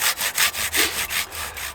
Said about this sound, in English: It depends on how much fun it is sawing through the log